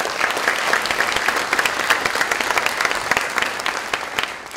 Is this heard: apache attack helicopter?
no